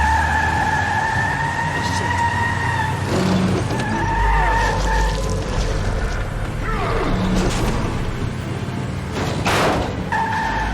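A car in the video game The Wolf Among Us drives hard with a continuous engine roar and repeated tire skids. Wailing siren-like tones and the game's action sounds fill the mix loudly and steadily throughout.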